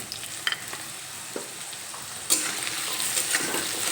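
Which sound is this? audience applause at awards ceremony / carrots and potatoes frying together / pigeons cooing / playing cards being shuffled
carrots and potatoes frying together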